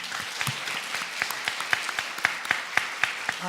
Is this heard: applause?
yes